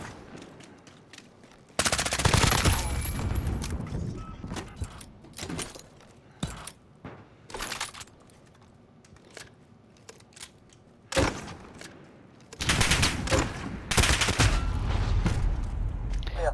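Gunfire in a Call of Duty match comes in bursts of rapid shots separated by quieter gaps, with some longer sustained volleys, loud and close.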